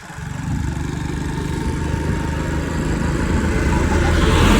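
A repaired motorcycle engine runs steadily close by, a continuous loud drone with a buzzing, mower-like rumble that holds even throughout with a slight rise toward the end, no voices over it.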